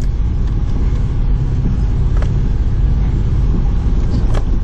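A four-wheel drive vehicle creeps slowly down a muddy slope with almost no braking, giving a steady, close low rumble of engine and tyres that runs unbroken throughout.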